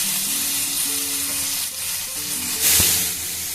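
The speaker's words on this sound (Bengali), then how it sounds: "পেঁয়াজটা আমার একটু ভাজা হয়ে গেছে, মোটামুটি 1 মিনিট মতো একটু ভেজে নিলাম" Onions frying in a pan over a high flame, a steady close sizzle with soft stirring scrapes and a brief louder hiss near the end, no talking.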